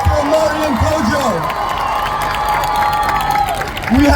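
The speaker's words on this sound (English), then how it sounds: "give another round of applause for Mariam Kojo" A crowd at a Free Palestine rally in Boston claps and cheers in a steady, noisy wash, while a voice rises and falls over the top.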